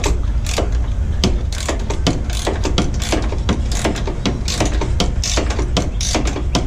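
A ratchet wrench turns out a long bolt on a 1997 Dodge Ram, with rapid close clicking strokes repeating continuously and evenly throughout.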